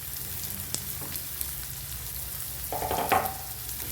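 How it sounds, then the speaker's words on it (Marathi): Green chili and garlic fry in oil with a quiet, even sizzle. A brief louder crackle swells near the end, as if something is stirred or added. "तेलावर हिरवी मिरची लसूण छान फ्राय बनवून घ्यायचे आपल्याला छान परतायचे"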